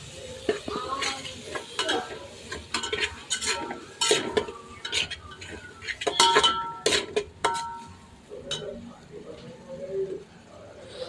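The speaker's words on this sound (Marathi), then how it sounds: "कांदा तळून चांगला झाल्यावर त्यात सर्व मसाले घालून चांगले परतून घेतलं" Fried onion and spices being stirred and sautéed in a pan for pav bhaji, with a spatula scraping and clinking against metal in an irregular rhythm over a soft sizzle, fairly close.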